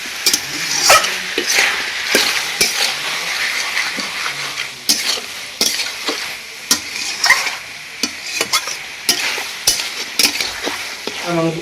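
Chicken coated in garlic paste stirred and fried in a pan with potatoes: steady close sizzling under repeated scraping and clanking of a spatula against the metal, with sharp irregular knocks throughout and no talk.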